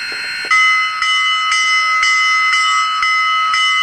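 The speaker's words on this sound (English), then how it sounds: "the bell is awesome when you think about it" Locomotive bell in a train video game, ringing loud and clear in an even, regular rhythm of strikes about twice a second, alone without talk.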